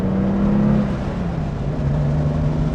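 A Porsche 911 Carrera 3.2 flat-six engine on a race circuit gives a loud, close, steady engine note heard from inside the car, its pitch dipping slightly as the revs ease, with no talk.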